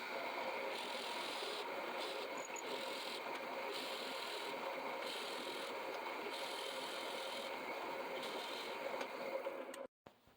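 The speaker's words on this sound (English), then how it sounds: "Got a 3/4-inch Forstner bit drilling into some kind of unknown Asian hardwood, so we're running at 500 RPM." A steady, low grinding rasp of a 3/4-inch Forstner bit cutting into Asian hardwood at 500 RPM continues for several seconds, fairly quiet, then cuts off abruptly near the end.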